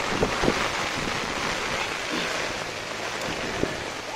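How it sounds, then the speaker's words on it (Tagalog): Steady, dense typhoon rain pours down, a broad continuous hiss with a few faint knocks and pats on nearby surfaces. "masyadong malakas na yung ulan"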